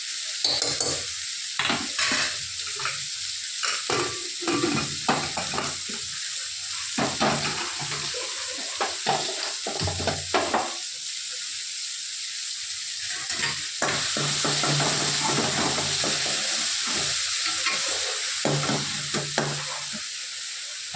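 Tomatoes sizzle and fry in a pan while a utensil stirs and scrapes intermittently, close up, with no talking.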